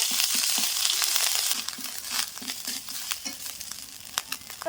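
Ginger and garlic paste fry in white oil, a bright crackling sizzle loudest at first, then settling into spattering pops and scraping stirs against the pan, close and without talk.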